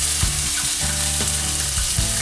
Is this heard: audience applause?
no